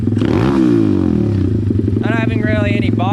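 A pit bike with an upgraded Nibbi/Keihin carburetor, warmed up, revs hard then drops back toward idle, a loud steady engine drone with rising and falling pitch sweeps close by.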